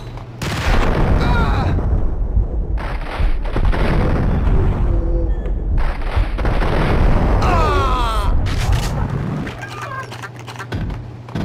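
A grenade explodes in the Max Payne hotel shootout game, with loud booming blasts and gunfire bursts filling the scene, a brief voice cutting in over the din.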